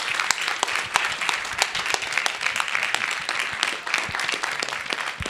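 Dense, steady applause from a lecture audience honoring retired Justice Albie Sachs at a university prestige lecture, a full crowd clapping continuously for several seconds with scattered sharper claps standing out.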